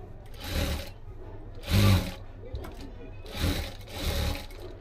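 A sewing machine stitches a blouse seam in several short, loud runs with quieter gaps between them, heard close up.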